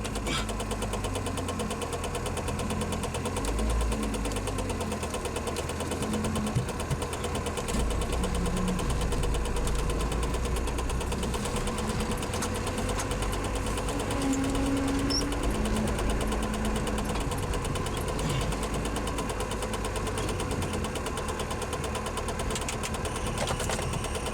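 A 1994 Saab 9000 engine idles steadily, a close, even mechanical hum with a faint knocking beat that holds unchanged throughout.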